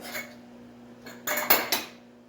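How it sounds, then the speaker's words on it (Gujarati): A few sharp metallic clanks and scrapes of a pressure cooker lid being opened, close by, over a steady low hum. "તો હવે ઢાંકણ ખોલી દઈએ"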